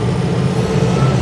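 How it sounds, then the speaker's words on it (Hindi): Toyota Hilux Tiger pickup truck on the move, a steady, loud low engine drone with road rumble running unbroken throughout. "अब मैं ये हाइलक्स चला रहा हूँ"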